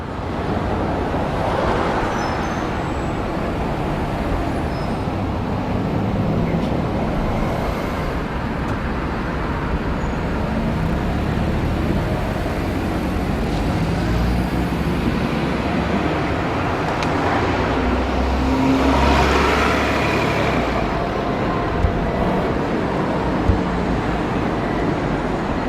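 An ALX400-bodied Trident double-deck London bus working route 57 on the South Circular Road near Streatham, heard within a steady, continuous rumble of road traffic outdoors, with no talking.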